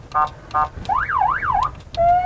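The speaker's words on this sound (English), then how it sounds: "You want a siren?" A siren effect played through a car's aftermarket speaker system: a few short warbling bursts, then a loud rising-and-falling wail and a final steady tone, close and clear with no talk.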